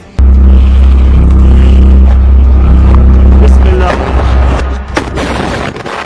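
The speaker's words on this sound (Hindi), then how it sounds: "अल कासिम का एक लड़ाका इसके ऊपर गोला फायर कर देता है, जिसकी वजह से इस टैंक में जोरदार ब्लास्ट होता है" An IDF Merkava tank blasts after being hit by a fired shell: a sudden massive boom erupts, then a loud sustained roaring rumble that slowly fades with scattered crackles.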